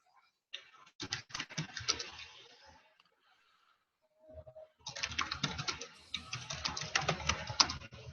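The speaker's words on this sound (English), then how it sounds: "I can hear you typing." Rapid clicking keystrokes on a computer keyboard come in two bursts separated by a quiet pause, close and crisp.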